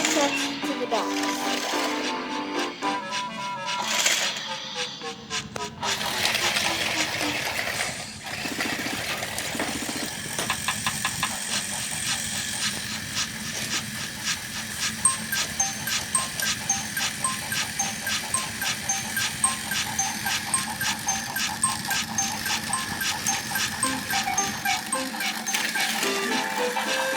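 A motorized Thomas Trackmaster toy train runs along its plastic track and turntable, giving a continuous whirring motor whine with rattling clatter, briefly faltering early on before settling into a steady run.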